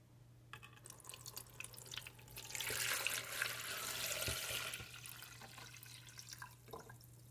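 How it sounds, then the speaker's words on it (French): Water poured into a small mini aquarium, a soft steady splashing and trickling that builds in the middle and then eases, close and fairly quiet over a low constant hum, with no talking. "on va mettre l'eau et on va voir comment ça marche"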